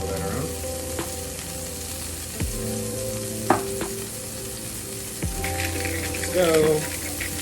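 Tomatoes hit hot oil in a pan and set off a steady sizzle that runs under the whole stretch, with the clatter of stirring and a short spoken remark partway through.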